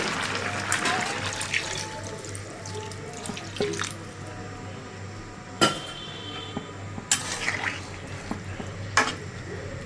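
Broth pours into a pan of small tengra fish curry in a running, splashing stream, followed by soft drips and a few light knocks of a utensil against the pot.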